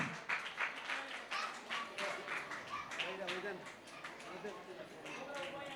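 Crowd at a student award ceremony applauds with dense, continuous clapping that fills the room, steady and moderately loud, while voices talk over it.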